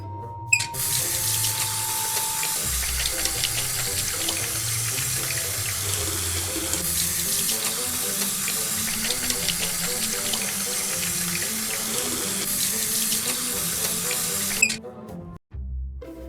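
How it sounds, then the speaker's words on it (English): Tap water runs into a sink as hands are washed beneath it, a loud steady rushing stream lasting around fourteen seconds before the flow is shut off with a brief squeak and clunk. "Now, let's go wash our hands."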